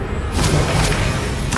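Confringo blasting spell cast in the video game Hogwarts Legacy: a few short booming bursts with swooshing tails, spaced irregularly over a steady rumbling game soundscape.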